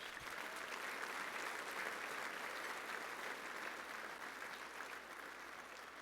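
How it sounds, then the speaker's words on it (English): An awards ceremony crowd claps for gold sponsors, a broad, even round of applause from many people that holds strong and slowly eases off toward the end, alone without voices. "Our gold sponsors, one more round of applause for them."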